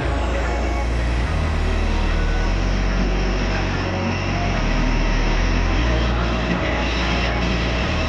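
A steady, loud airplane engine drone at an airport, with a low rumbling hum that shifts slightly in pitch and continues without pause, no talking.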